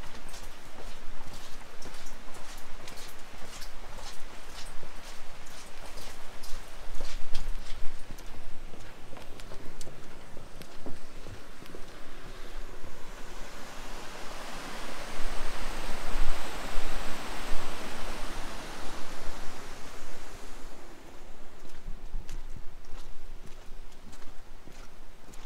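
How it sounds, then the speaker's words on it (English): Steady rain patters and hisses continuously at a harbor by a fishing boat, with irregular drips and splashes close by, swelling louder midway before easing back. "Kind of a rainy, gloomy day, yeah, so far."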